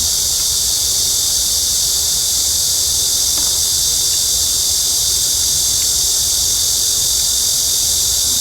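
Cicadas buzz in a loud, continuous high-pitched drone that holds steady from start to finish, with no voices.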